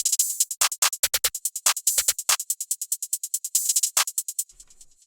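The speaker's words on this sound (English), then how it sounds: "And then just added this open hat," Open hi-hat pattern in an FL Studio trap beat, a steady run of bright, crisp hat hits with a few longer open-hat washes recurring on every second beat, close and dry, then a brief fading tail.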